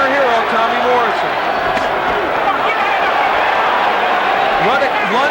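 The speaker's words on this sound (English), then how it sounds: "This crowd lends some vocal support to their hero, Tommy Morrison." A boxing arena crowd roars in steady vocal support of heavyweight Tommy Morrison during his 1995 bout with Ruddock, a continuous loud wash of cheering with a commentator talking over it.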